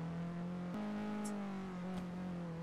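A car driving in GTA 5 on a FiveM server, with a steady engine drone that holds a constant pitch and shifts slightly up at one point, continuous and fairly near with no talk.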